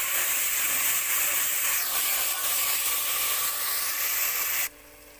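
Ground masala paste mixed with ginger garlic paste cooks in a pan, giving a steady, close hiss and sizzle that runs unbroken and then cuts off abruptly near the end.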